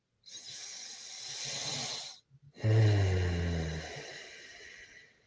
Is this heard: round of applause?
no